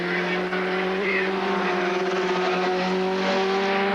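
Kawasaki superbikes, including an 1100, racing at Surfers Paradise in 1982, a steady loud engine drone as the bikes pass, continuous across the whole stretch with no voices.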